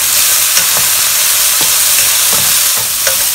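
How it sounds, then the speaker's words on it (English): Small yam pieces sizzle loudly and steadily in a hot pan over medium-low heat, with occasional soft scrapes of stirring cutting through the constant hiss. "I'm frying them on medium to low heat."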